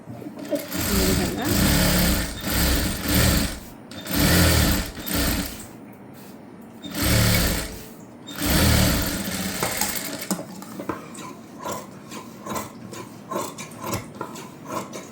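A sewing machine runs in repeated bursts of stitching through a blouse lining, loud and close, with pauses between runs and quieter handling noises afterward.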